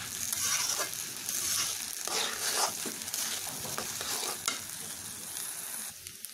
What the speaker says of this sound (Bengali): চালটাকে ভেজে নিতে, এতে করে পোলাওটা খুবই ঝরঝরে হবে